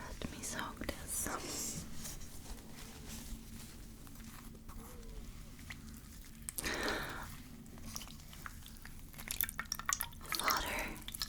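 A cloth is soaked and dabbed in water during a close, quiet ASMR scene, with soft drips and wet squelches spaced over several seconds amid faint whispering and background hiss.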